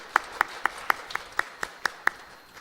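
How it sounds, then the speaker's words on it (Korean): Slow, evenly spaced claps during a Korean church worship service, about ten sharp beats in a steady rhythm, fairly close and clear over a quiet room. "한번 박수로 축복하겠습니다."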